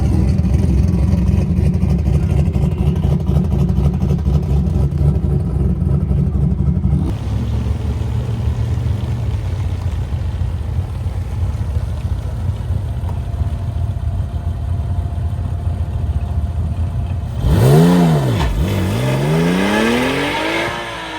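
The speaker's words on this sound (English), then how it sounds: "There's some race cars out here." Race cars at a drag strip run nearby, engines droning and revving loudly for a long stretch, then one car passes with a sweeping, pitch-shifting roar near the end.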